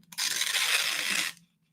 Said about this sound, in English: And then let's rip this regular paper.